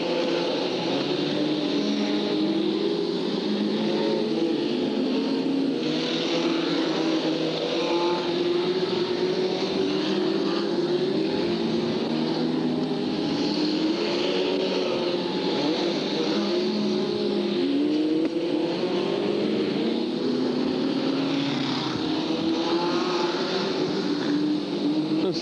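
F2 stock cars race around the Hartlepool oval in 1993, with a constant roar of several engines revving and fading as the pack circulates, loud and unbroken for about twenty-five seconds.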